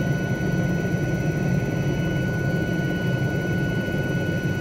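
Helicopter hovering in Microsoft Flight Simulator 2020, a steady, loud rotor and turbine drone with a constant high whine running unchanged throughout, no voices.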